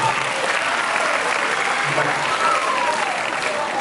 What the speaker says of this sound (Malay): semua tolong bagi tepukan sama dia orang semua